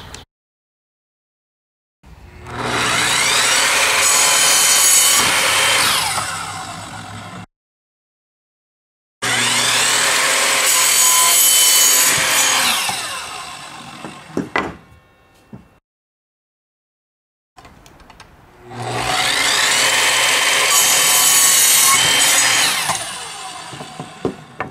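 An Evolution Rage 3 saw cuts through conduit, corner bead, a stud and 1 1/4 inch pipe in three loud, sustained bursts of several seconds each, separated by silence, with brief clatter between the second and third cuts.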